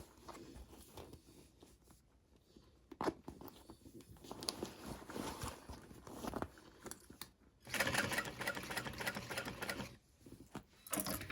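A sewing machine stitches a small Tribbiani Traveler bag: close, steady mechanical running in long bursts broken by short pauses and handling noises as the fabric is repositioned, no talking.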